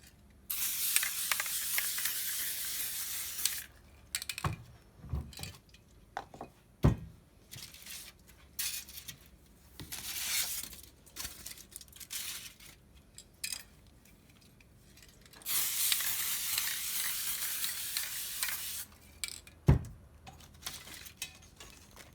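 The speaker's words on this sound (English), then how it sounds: "I'm just using my contact adhesive spray, and I'm going to join the 2 pieces together" Contact adhesive spray hisses from an aerosol can in several long bursts, with short pauses and faint clinks between them, close by and steady.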